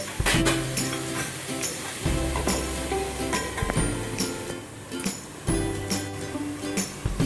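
Lauki halwa mixture of bottle gourd is stirred in a pan with repeated scraping and clinking strokes over a soft sizzle, loud and close in rhythmic bursts, and no one speaking.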